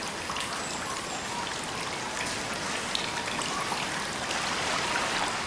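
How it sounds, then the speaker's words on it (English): Water drips, trickles and pours inside a vast cave lined with huge stalactites in northeast India, a dense steady patter of drops and running water filling the space evenly throughout, with no voices. "Water drips, trickles and pours everywhere."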